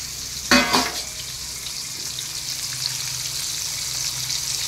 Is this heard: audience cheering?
no